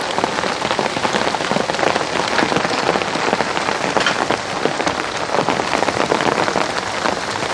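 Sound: rain falling on a garden

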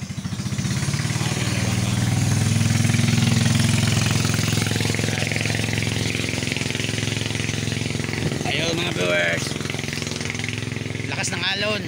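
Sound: motorboat engine

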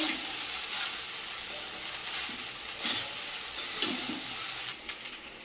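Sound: stirring fried rice in a pan after adding black pepper powder

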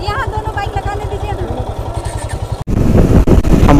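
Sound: motorcycle engine running while bikes are parked

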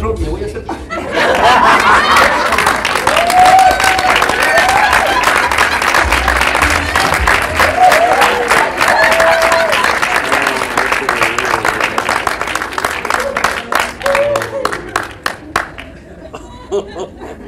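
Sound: audience applause for the drama group

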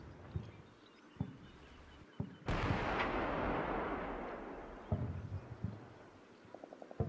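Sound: ammunition cooking off in a destroyed vehicle, Combat Mission Black Sea video game

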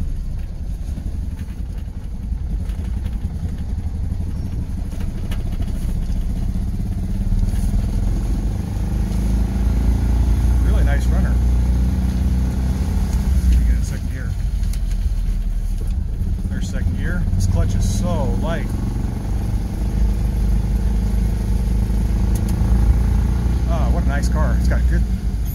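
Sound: BMW Isetta bubble car engine while driving

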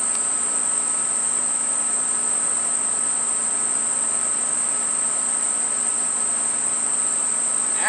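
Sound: honey bees buzzing in an opened hive

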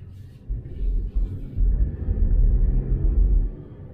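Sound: Volkswagen one-liter three-cylinder car engine while driving

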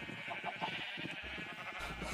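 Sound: sheep bleating in Minecraft video game

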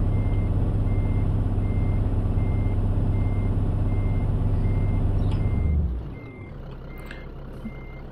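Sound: truck reversing beeps in Scania Truck Driving Simulator video game

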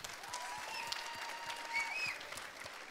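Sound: audience applause at award ceremony

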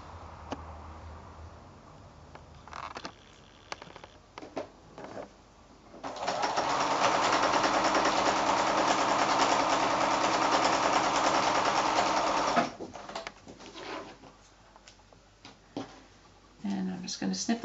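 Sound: sewing machine stitching quilt fabric through all layers

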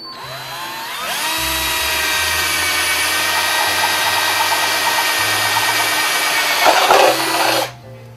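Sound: power drill drilling a hole

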